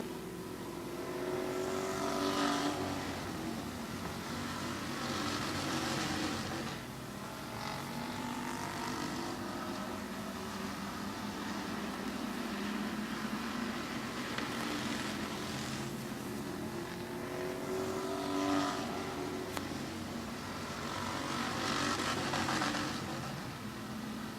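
Stock cars race at Midvale Speedway, engines roaring and swelling in repeated passes as cars sweep by, with continuous layered motor noise from the field in traffic.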